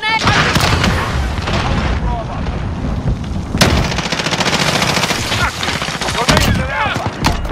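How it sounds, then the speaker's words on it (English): Dense bursts of automatic gunfire and booming explosions from a grenade in Call of Duty: Modern Warfare multiplayer, loud and nearly continuous with sharp blasts, under brief in-game voice callouts. "Throwing grenade."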